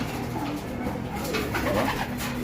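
Racing pigeons cooing at Luneta Park, a steady murmur of many soft overlapping coos that carries on without a break against a busy outdoor background.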